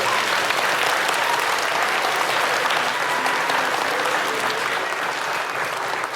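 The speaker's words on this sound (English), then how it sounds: "How about a nice round of applause for Mr. Carroll." Sustained applause from a school audience at an elementary Veterans Day event, a thick, even roar of many hands clapping for about six seconds, with some faint voices underneath.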